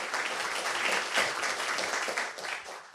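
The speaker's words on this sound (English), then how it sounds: "you can give them a big round of applause" Applause from a seated audience at a talk, a dense, steady wash of many hands clapping that tapers slightly toward the end, fairly close and without voices.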